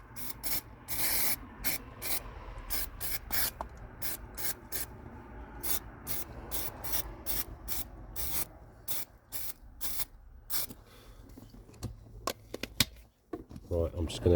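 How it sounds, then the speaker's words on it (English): Autoglym black dye squirted and rubbed onto a vehicle's pedals inside a car, with a fast run of short, crisp spraying and rubbing bursts that thin out toward the end. "So I'm now going to put some of the black dye on the pedals, just a little squirt."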